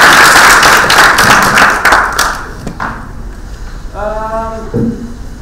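Applause from a conference audience at a public procurement opening ceremony, loud dense clapping that thins and fades after a couple of seconds, followed by scattered claps and brief voices near the end.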